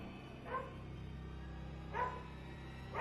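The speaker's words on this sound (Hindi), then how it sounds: "खिड़की के बाहर एक कुत्ता उसे देख बार बार भौंके जा रहा था।" A dog outside a window barks in three short, separate yelps spaced about a second and a half apart, faint and slightly distant over a quiet background hum.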